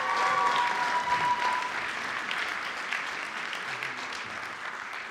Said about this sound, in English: Give him one more round of applause, please.